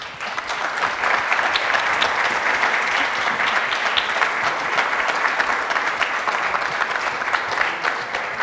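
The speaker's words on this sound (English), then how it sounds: "Let's give him another round of applause." Sustained audience applause for the third place team at a venture plan competition finals, loud, even clapping from a large crowd continuing for several seconds with no voices over it.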